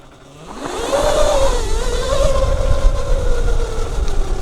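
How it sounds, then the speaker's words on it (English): Zero FXS electric motorcycle pulling away hard with its rear wheel spinning, a rising electric whine climbing quickly then holding steady, close and fairly loud over road and tyre noise. "No trouble wheel spinning there."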